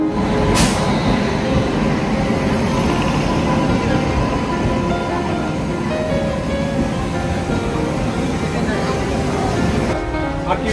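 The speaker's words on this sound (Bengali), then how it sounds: "প্রায় 20-25 মিনিট লেটের পরে ট্রেন ঢুকছে আমাদের সরাইঘাট।" A late-running passenger train, the Saraighat Express, rolls into a station at night: a continuous heavy rumble of rail wagons close by, steady throughout, with a brief high tone early on and faint voices in the background.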